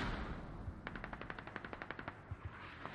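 Automatic gunfire in a Squad tactical shooter match rattles out as a rapid, evenly spaced burst of about fifteen shots, moderately distant and dry, with a louder report at the very end.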